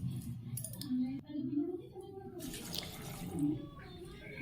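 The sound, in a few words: water being poured into a pressure cooker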